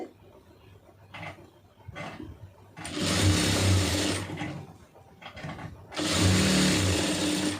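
A sewing machine stitching a round neckline runs in loud whirring bursts of about a second each, separated by quieter pauses, with faint handling sounds between runs.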